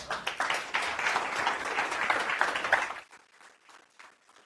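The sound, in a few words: audience applause at tech showcase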